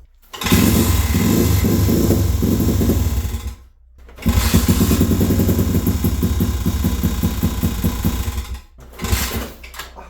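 Monster XTR 125 motorcycle engine running rough and revving in long bursts separated by short quiet gaps, loud and close with a buzzy rattling tone, no speech.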